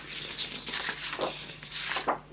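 Scissors cut out paper pieces for a wildflower scrapbook mini album, giving soft snips and papery rustling in short, quiet bursts up close.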